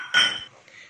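A spoon clinks once against a bowl while ingredients are mixed for a sweet peanut dessert, followed by a brief soft scrape and a quiet tail.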